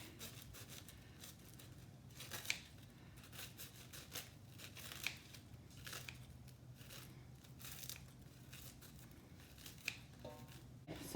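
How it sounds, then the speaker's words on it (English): Cooking shears snipping through slices of toast for a holiday dressing, a steady series of soft crunchy cuts with faint crumbly rustling, close and fairly quiet, with no talking. "just cut it with my cooking shears"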